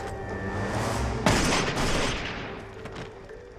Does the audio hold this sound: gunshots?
yes